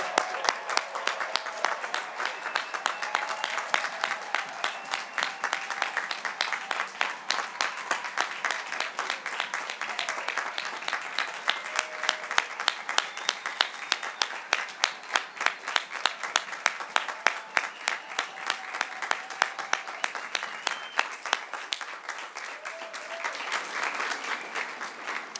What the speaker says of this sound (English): give a huge round of applause and congratulations to the awesome class of 2020